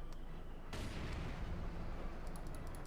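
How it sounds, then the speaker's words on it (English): A mortar fires in the World War II strategy game Company of Heroes 2, one sudden thump that breaks into a long, dense rumble of battlefield noise with no voices over it. "Mortar here back in service for the 1st Infantry Division"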